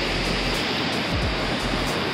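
Rushing water of the large Indira Gandhi canal pours in a loud, constant broadband roar close by, with faint low thumps mixed into the steady flow.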